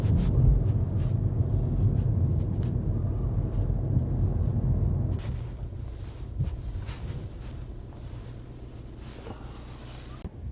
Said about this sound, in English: Really windy here also.